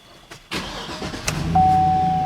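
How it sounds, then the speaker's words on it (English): A 2009 Chevrolet Silverado 2500HD pickup truck engine cranks and catches, then settles into a steady idle up close, with a faint electronic tone coming on. "you gotta actually fire the truck up"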